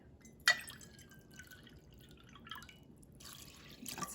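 Water is poured into a pot holding a cup of rice, heard as a sharp splash followed by faint intermittent drips and trickles, quiet and close.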